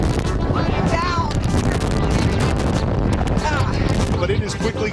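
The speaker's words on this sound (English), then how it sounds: "These strong winds are not letting up." Powerful hurricane wind gusts batter the microphone on the fifth floor of a hotel, a loud continuous roar with buffeting bursts, while a reporter speaks over it.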